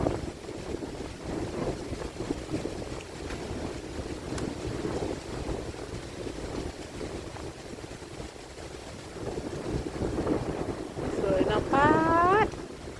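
Strong wind gusts through a forest with falling leaves, a loud, rushing roar that rises and falls, with a voice heard briefly near the end.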